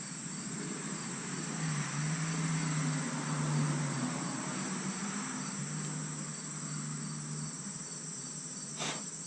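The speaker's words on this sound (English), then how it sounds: "There's a really irritating little bee of some sort flying around." A small bee of some sort flies around outdoors, its steady insect drone buzzing continuously close by at moderate loudness, with no talking.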